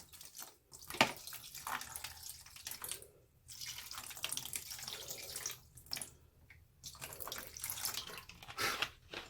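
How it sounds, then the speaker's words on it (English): Water poured into a snake egg incubation box filled with light diffuser grids, heard as several short, splashy trickling bursts separated by quiet pauses, close and fairly soft, with no talking. "And then I'll add a little bit more water."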